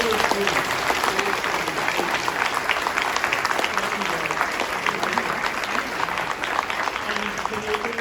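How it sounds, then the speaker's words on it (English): Sustained round of applause from a comic con panel audience, dense steady clapping for the full length with some voices mixed into the crowd. "can you please give a round of applause to our wonderful comic con staff?"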